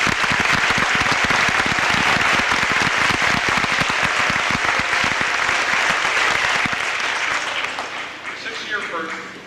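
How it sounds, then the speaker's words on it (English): A crowd at a high school marching band awards night claps loudly for a staff member, sharp individual claps standing out in a thick sustained burst that tapers off over the final second or two. "How about a round of applause?"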